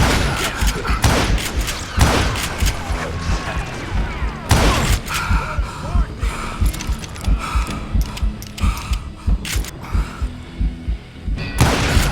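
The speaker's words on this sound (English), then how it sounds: "Who's shooting at us? We're under fire!" Repeated loud gunshots ring out in a Western shootout in Call of Juarez: Gunslinger, with rapid irregular bursts of close fire and heavy thuds throughout and a few brief voices in between.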